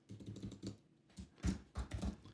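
Fingers type a command on a computer keyboard, a quick run of soft key clicks followed by a brief pause and another burst of taps, close and fairly quiet.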